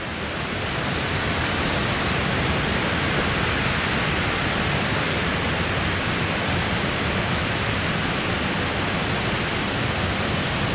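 A waterfall at an old abandoned site where nature is taking back over, roaring as a steady, dense rush of falling water with no break for the whole stretch and no voices over it.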